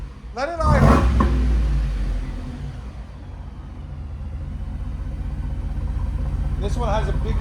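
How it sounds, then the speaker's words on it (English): The gas V8 of a 2025 Ford F-250 with a Carven R-Series exhaust blips briefly, then settles into a deep, even idle rumble that grows slightly louder, with a brief voice near the start and end. "Let it idle."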